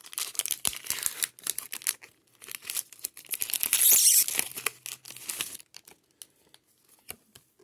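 Pokemon Scarlet and Violet base set booster pack wrapper being torn open, a run of crisp crinkling and ripping foil close by, loudest in one burst midway, then a few scattered rustles.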